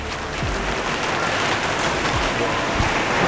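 Steady rain falling outdoors, a dense even hiss with no breaks, moderately loud and continuous, with faint voices in the background.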